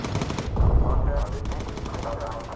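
Rapid bursts of machine gun fire from bomber turrets in the World War II aircraft game Bomber Crew, crackling in quick repeated volleys at moderate loudness with a voice talking faintly underneath.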